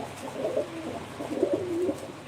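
Ankara game pigeons cooing in a loft, several soft low rolling coos repeating across the moment at moderate distance, with no talk over them.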